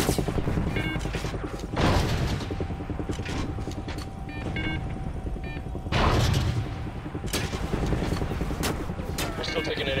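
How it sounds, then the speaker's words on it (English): Heavy anti-aircraft fire and explosions in the Call of Duty: Ghosts video game, continuous rumbling barrage with periodic louder booms, dense and loud, with a voice speaking over it. "We're still taking enemy AA fire from behind the smokestacks"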